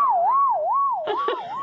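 A musical saw bowed to imitate a police siren, its pure singing tone sliding up and down in a steady wail, loud and close, with some knocking sounds near the end.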